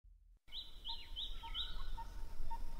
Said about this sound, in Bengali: পোকার আওয়াজ, দূরের বন থেকে ভেসে আসা কোনো অজানা পাখির ডাক